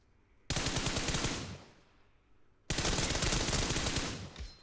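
Automatic gunfire in a video game, two long rapid bursts of loud, dense shots separated by a short pause, with no voices.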